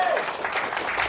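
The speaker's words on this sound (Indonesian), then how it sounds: "Boleh tepuk tangan buat kita semua." Brief audience applause at a managerial skills and leadership training event: a burst of dense clapping from a group indoors, steady and fairly loud, lasting just over a second.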